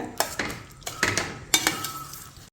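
A spoon scrapes and stirs rice and milk in a pot in irregular strokes, with soft bubbling and clinks underneath. Close and fairly loud, no talking.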